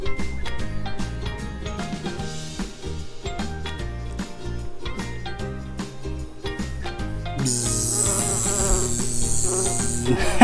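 A person imitates bees with a steady, sustained buzzing hum that holds at an even loudness throughout, close up, with no other talk.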